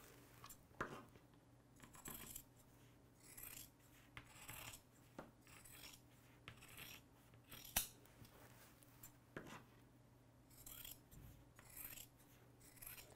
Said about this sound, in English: I just love that scissor ASMR.